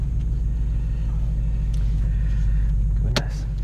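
A 2016 Ford Mustang GT V8 runs steadily after starting, a loud, close, continuous low rumble with a brief sharper click near the end and no talking.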